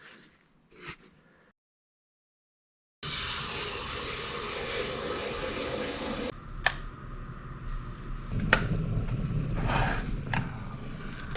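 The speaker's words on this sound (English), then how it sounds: "now that the water has boiled, I'm putting this in a nice bucket, a couple at a time" Hot water freshly boiled in a kettle is poured into a bucket in a garage workshop, a steady splashing pour for a few seconds followed by clunks and lighter splashes; no talking.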